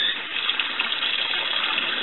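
Tap water runs steadily over Coturnix quail eggs being rinsed in a sink, a continuous close hissing stream with no voices.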